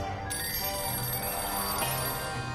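A telephone rings in the video game Sam & Max Save the World, a repeating electronic ring heard clearly on its own for a couple of seconds.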